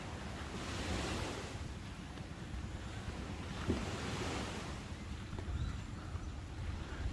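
Ocean surf washes in at a Thai beach resort, broad rushing swells of waves rising and falling close by, with wind buffeting the microphone throughout.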